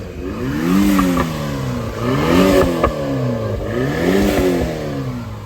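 Small 660cc three-cylinder Daihatsu Mira with an automatic transmission, revved repeatedly in loud rising-and-falling bursts, a couple of sharp exhaust back pops crackling between the throttle blips.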